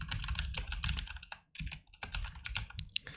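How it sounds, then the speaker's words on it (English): An email address being typed on a computer keyboard: a steady run of close, crisp key clicks, with one short pause midway, and nobody talking. "So we can type out our email address"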